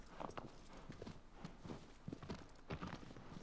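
A horse's hooves clip-clop at a steady gallop across the ground in the video game Shadow of the Colossus, rhythmic and moderately close with no talk.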